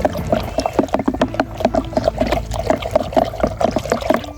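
Fertilizer and nutrient solution stirred by hand in a sprayer tank, a continuous rhythmic sloshing and swishing of water with quick repeated strokes, loud and close.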